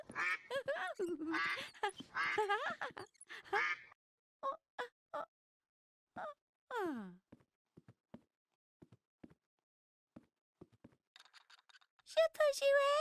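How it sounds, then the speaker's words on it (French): A plastic toy duck pulled along on a string gives a run of nasal quacks in a cartoon setting, several short squawks between gaps, with voices talking before and after. "Rosie entra dans la salle tirant son canard en plastique par une ficelle."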